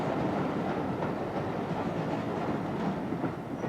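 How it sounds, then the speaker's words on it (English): A train rolls along steadily at a station platform, giving a continuous broad rumble and rattle of moving wagons at moderate loudness, with no voices. "Keep well back from the edge of the platform, won't you? And don't get onto the train until it's stopped."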